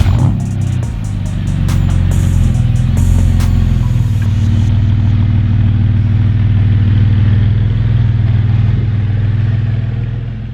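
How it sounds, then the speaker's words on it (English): A salvaged BMW with a muffler delete fires up, its engine settling into a loud, raw, droning exhaust note close by, with clattering and clicking early on before a steady idle. "We're gonna start her up. You're gonna hear that exhaust note. It's got a muffler delete"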